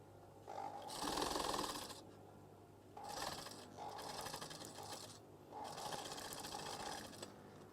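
A sewing machine stitches curtain fabric in three bursts of steady rapid whirring, separated by short pauses, close and fairly quiet.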